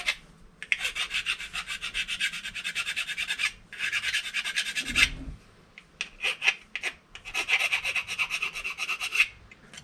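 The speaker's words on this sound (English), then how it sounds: "scratch things up first to get it to stick" Abrasive scratching over the metal surface of a 1988 Foxbody Cougar before epoxy goes on: close, rasping back-and-forth strokes in bursts, with a short thump and pause partway through.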